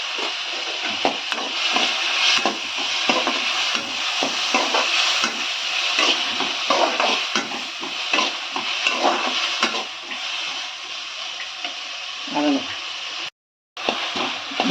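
Tomatoes with rock salt sautéing in a pan for onion-tomato chutney, a continuous sizzle broken by repeated scraping and tapping stir strokes, close and fairly loud, with a short dropout near the end.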